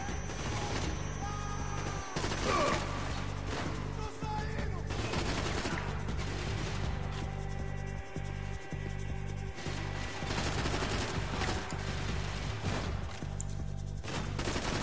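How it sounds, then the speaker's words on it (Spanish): Sustained video game gunfire from Max Payne 3, dense overlapping shots and bursts in a continuous firefight lasting the whole stretch, with sharp individual reports punching through a loud, busy combat mix. "le estás pegando tiros y ya ni siquiera se quieren morir"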